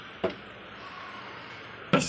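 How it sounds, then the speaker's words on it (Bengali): A window is shut against wind-blown rain, marked by two sharp knocking thumps nearly two seconds apart over a low, steady background hiss. "জানালাটা বন্ধ করে দিই।"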